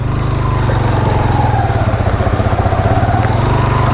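A motorcycle engine runs steadily on a rough mountain road in the Neelum Valley as the bike starts to heat up, a close, loud, pulsing mid-pitched chug with some rattling and no talk over it.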